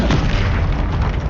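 A quick, punchy magical blast from a spell cast in Hogwarts Legacy, a single loud boom-like burst lasting about a second.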